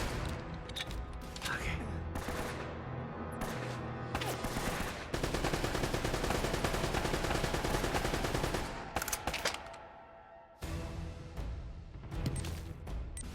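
Gunfire in the video game Uncharted: Drake's Fortune, with dense, loud bursts of rapid shots and automatic fire running through most of the stretch, a brief lull near the end, then more shots.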